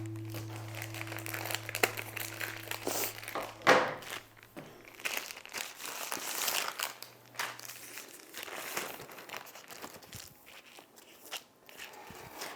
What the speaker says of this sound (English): next we're gonna go ahead and open up our puff pastry